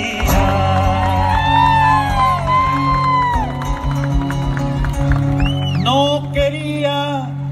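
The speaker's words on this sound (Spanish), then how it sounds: "el aplauso se comparte entre Uruguay y Argentina" Loud cheering and whooping from an audience at a payada gathering of Argentine and Uruguayan folk improvisers, with excited shouting and sustained tones from the crowd throughout.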